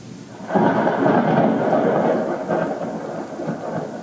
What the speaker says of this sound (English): Only the rolling storm remains.